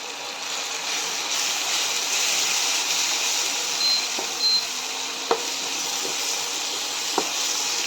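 Watermelon rind pickle mixture sautéing in a pan with turmeric and Kashmiri chili powder, a steady soft sizzle and hiss with a few light stirring knocks near the end.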